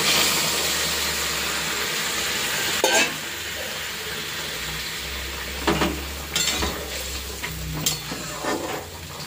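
Hot water hits a pan of frying spiced curry with turmeric, salt and cumin, producing a loud, steady sizzling hiss over a low stove rumble, broken by a few sharper clatters and stirring knocks.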